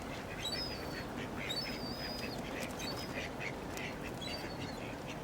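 Repeated honking calls of geese at feeding time in a busy outdoor scene, several birds at moderate distance over steady background noise.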